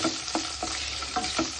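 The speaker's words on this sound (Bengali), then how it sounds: "এটা একটুখানি লাল লাল করে ভাজা হতে থাকুক।" Onion frying in a pan, a steady close hiss of sizzling oil broken by a few soft stirring scrapes at uneven intervals.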